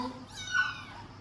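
A single thin, high meow from a barely weaned stray kitten at an animal pound rises and falls briefly, close and fairly faint, with quiet background around it.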